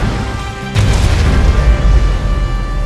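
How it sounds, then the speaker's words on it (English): A nuclear weapon detonates in the C&C: Rivals strategy game, one sudden heavy boom followed by a sustained, loud low-end rumble that rolls on to the end. "nuclear weapon launched"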